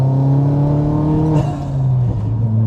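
A Vauxhall Astra VXR with a big exhaust system and full decat drones and revs while driving, a loud steady tone from inside the car that dips briefly as the gear changes and then settles again.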